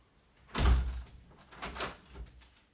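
A door being opened to let a pet in, a solid thunk followed by a few softer knocks and rattles as it swings and settles, close by with no speech.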